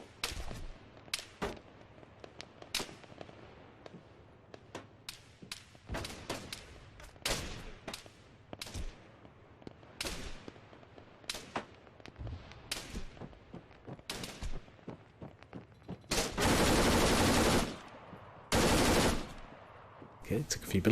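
Gunfire in the Arma 3 King of the Hill game, with sharp single shots and short bursts scattered through, then two loud sustained automatic bursts near the end, alongside occasional quiet voice.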